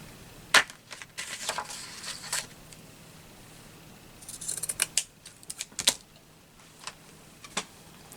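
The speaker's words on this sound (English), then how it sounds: "I need to cut it right there" Scissors snip through paper for a collage in a few scattered sharp cuts, close and fairly quiet, with short clusters of snips separated by pauses.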